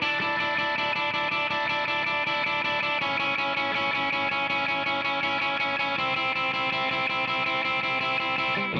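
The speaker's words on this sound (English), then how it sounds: "The song starts off with this epic riff that sounds like this." A distorted electric guitar plays the opening riff of a song, sustained and driving with buzzing overdriven tone, steady and loud throughout, no voices.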